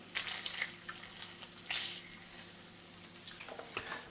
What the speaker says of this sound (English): this bacon is cooking faster than I thought it would